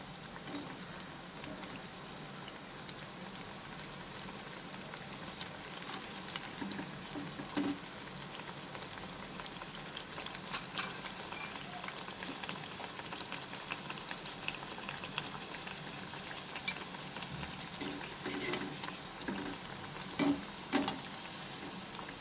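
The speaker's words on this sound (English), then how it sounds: "Over a medium flame, fry the gujiyas till it turns nice and brown in color, golden brown in color." Coconut gujiyas fry in hot oil over a medium flame, giving a steady, close sizzling and bubbling with scattered small pops and crackles throughout.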